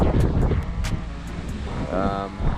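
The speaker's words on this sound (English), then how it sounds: "Wind is kicking" Wind blows across an exposed, shadeless mountain trail near South Baldy, a steady broadband rush with low buffeting that swells and eases over a couple of seconds, with a brief tonal rise near the end.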